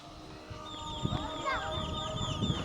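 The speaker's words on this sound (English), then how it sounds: "And this is their chickens. It's a big rooster right there." Chickens cluck and a large rooster calls at close range in a Honduras neighborhood yard, the bird sounds rising over a steady bed of background noise for under three seconds.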